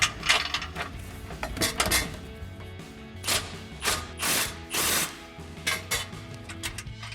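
A ratchet with a 16mm socket turns a bolt on a Jeep Gladiator, giving close, quick clicking bursts in repeated strokes with short pauses between.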